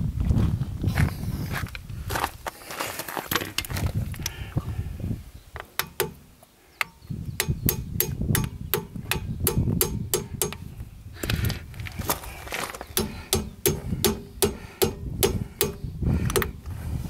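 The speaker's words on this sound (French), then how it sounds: "Je vais donc chercher un petit marteau." Small hammer tapping on a Toledo bearing, a long run of sharp metallic clicks, first scattered and then in a quick even rhythm with short pauses, close and fairly loud.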